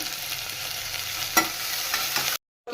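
Onions and finely chopped fenugreek leaves fry and get stirred in a pan, giving a steady close sizzle with scraping stirs. The sound cuts off abruptly to silence near the end.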